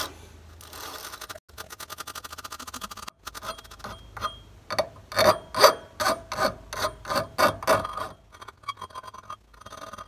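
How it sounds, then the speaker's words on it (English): A wire brush deburrs the outside edge of a copper faucet pipe, starting with fast rasping scrapes and building into a series of loud, rhythmic back-and-forth strokes up close, with no talking. "This will deburr the outside edge."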